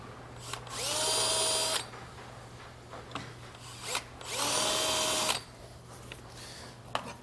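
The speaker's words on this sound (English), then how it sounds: "I'll use my 3/8" drill bit just to mark a center line" Two bursts of a power drill with a 3/8 inch bit spinning up and running for about a second each, marking a center line on a 2022 Chevrolet Equinox, with small clicks and handling noises between them.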